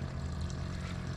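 A Yamaha 9.9 four-stroke outboard motor on a fishing boat runs with a steady, even low hum and broadband wash, close and continuous with no talk over it.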